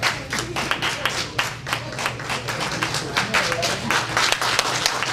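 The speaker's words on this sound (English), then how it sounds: "Give them a hand clap." An audience claps, a dense patter of many hands keeping up steadily from moderately near, with murmuring voices beneath.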